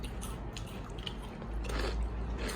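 Close, crunchy biting and chewing of a potato snack stuffed with a filling, a steady run of soft crunches and mouth noises with no talking.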